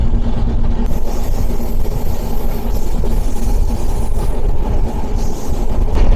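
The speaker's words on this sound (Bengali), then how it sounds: "অসাধারণ একটা ট্রেন জার্নি হচ্ছে" The Gurudev Express passenger train running across Chilka Lake: a loud, continuous rumble of wheels and carriage noise with a steady low drone throughout, and no voices.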